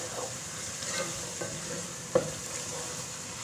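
Spiced masala that has been fried down in ghee sizzles steadily in a pan as green chillies are added for a potato and egg curry, with occasional stirring clinks and scrapes. No one speaks.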